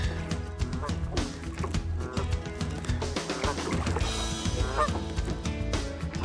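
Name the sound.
geese honking on a river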